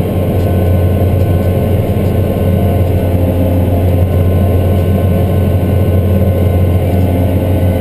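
A Cat MT765C tractor hauling a heavy, loaded Kinze 1050 grain cart during corn harvest gives a loud, constant low engine drone that stays close and unbroken throughout, with no voices.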